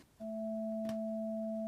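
Two steady pure tones from a Haken Continuum EaganMatrix synthesizer, patched through a signal multiplier, begin together after a short pause and hold evenly with a brief click partway through, alone without talk.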